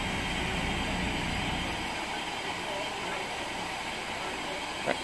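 A coal-fired steam locomotive, Mayflower 61306, works at Eastbourne under a steady, loud broadband hiss and rumble, with a short sharp knock near the end; voices are faint in the background.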